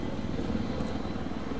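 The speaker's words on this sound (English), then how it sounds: "Alright, scout helicopter is actually up." A scout helicopter in Battlefield 3 gameplay drones with a steady rotor and engine rumble, continuous and moderately loud.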